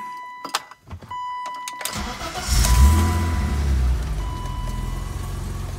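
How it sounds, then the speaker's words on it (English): A manual-swapped BMW iX car engine starting: a few clicks and short cranking bursts, then the engine catches and settles into a steady, close idle. "I'm gonna fire it up here."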